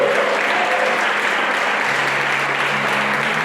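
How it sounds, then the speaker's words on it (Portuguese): A church congregation applauds during a sermon on prophecy, a loud, continuous wash of many clapping hands with no gaps, joined by a sustained organ or keyboard tone underneath. "Se você crê, aplauda poderosamente o nosso Deus."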